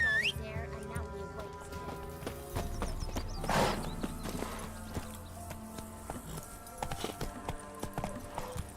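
A horse's hooves clip-clop steadily at a run in The Witcher 3 video game, a rhythmic clatter throughout with a brief neigh partway, layered with game sounds and a voice speaking.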